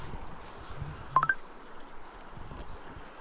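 A phone gives a quick cluster of electronic beeps over steady wind and water noise outdoors during a winter steelhead fishing trip.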